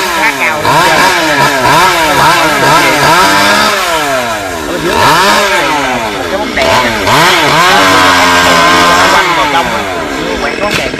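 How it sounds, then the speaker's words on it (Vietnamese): A chainsaw cuts a long Xà Cừ tree branch hanging over power lines, the engine loud and close, revving up and down in repeated surging sweeps for several seconds as it bites into the wood. "Anh Hiền cưa cây cái bên xa quá, hoa không quay tới được."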